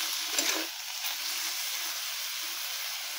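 Vegetables (shyamla and patla, for a prawn curry) stirred in a dry pan with no water added, giving a steady close sizzle and hiss with a louder scrape of stirring near the start.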